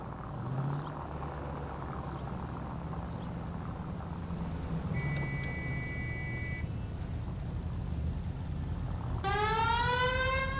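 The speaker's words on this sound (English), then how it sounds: "that's the alarm, the siren" Police alarm siren in the 1940s crime video game L.A. Noire: a low rumbling background, a steady electronic tone midway, then a loud wailing siren rising near the end.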